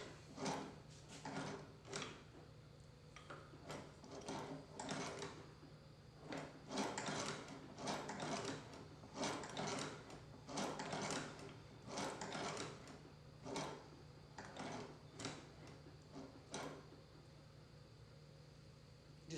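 A Chinese leather sewing machine stitches in short, repeated bursts of rapid mechanical clatter with brief pauses between runs, quiet and close, with no talking.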